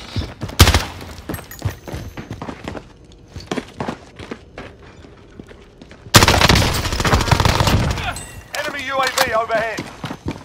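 Gunfire in the Call of Duty Rebirth Island video game: sharp close shots and rapid bursts with footsteps between them, then a heavy sustained fusillade in the second half, while players talk over it.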